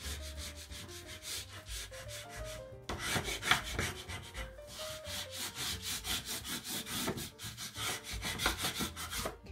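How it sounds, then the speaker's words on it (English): Bone folder burnishing vellum, a close, quiet, rhythmic rubbing made of quick repeated back-and-forth scrapes in short bursts, alone with no talking. "I'm just going to take my bone folder and just burnish it."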